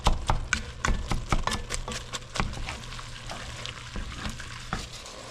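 Ground meat for Italian chili sizzles steadily in a hot pan, with repeated sharp scraping and stirring strokes about twice a second cutting through the frying hiss, close and fairly loud, with no talking.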